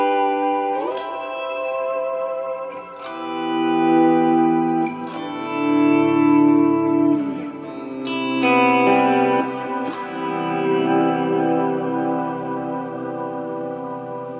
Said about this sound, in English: High octave reverb.